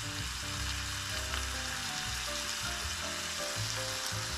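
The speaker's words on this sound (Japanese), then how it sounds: "将这个酱汁炒到收干之后就可以了。" Sauce stir-fried in a Neoflam non-stick pan until it reduces, giving a dense, continuous sizzle close up with a few soft stirring scrapes and no talk.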